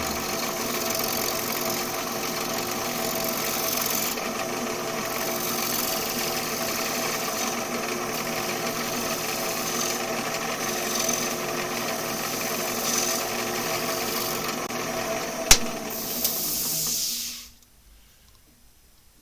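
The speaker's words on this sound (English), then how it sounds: "I'm shear scraping, so as long as I'm following the direction of the grain, going where the support's at" Wood being shear scraped on a woodturning lathe, with a steady continuous whirring drone and scraping hiss held at an even level, broken by one sharp tick near the end before cutting off to near silence.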